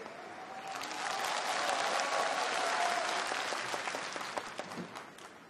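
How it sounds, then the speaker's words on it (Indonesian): Sustained audience applause at a business presentation, a dense wash of many hands clapping that swells, holds steady and then slowly thins out over several seconds. "aplaus untuk pilar 6 pilar kekuatan Tien"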